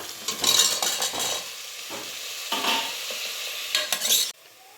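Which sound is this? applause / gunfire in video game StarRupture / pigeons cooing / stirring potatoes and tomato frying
stirring potatoes and tomato frying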